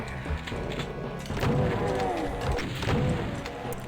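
Barrels blowing up one after another in a Doom WAD, with several heavy booming thuds rolling into each other over a steady game soundtrack, loud and close.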